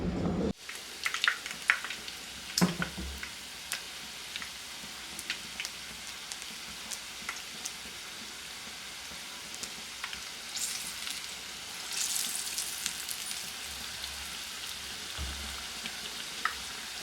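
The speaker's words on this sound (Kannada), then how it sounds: "ಎಣ್ಣೆ ಕಾದಿದೆ, ಈಗ ಇದಕ್ಕೆ ಬಿಡೋಣ." Medu vada (uddina vade) batter dropped into hot oil, frying with a steady crackling sizzle that swells in bursts, close and moderately loud with no one talking.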